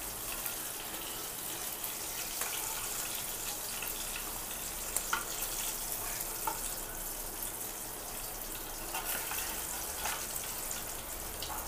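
Fish frying in a pan as a home fish fry, giving a steady, even sizzle and crackle with faint scattered pops and no talking.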